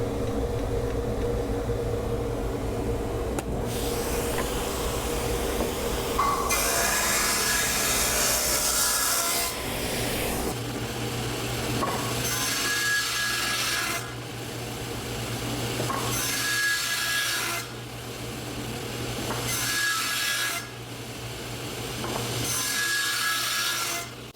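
Table saw cutting a cove into wood with repeated passes, a steady motor hum under rough, scraping cutting bursts that rise and fall, close and fairly loud, no talking.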